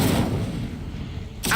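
A fire spell flares in Hogwarts Legacy, a loud whooshing burst that decays and then swells again near the end, with a voice heard alongside.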